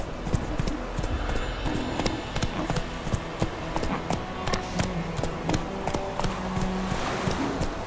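Roach, the horse in The Witcher video game, gallops with rapid, rhythmic hoofbeats that continue steadily throughout at close range over a background of game ambience.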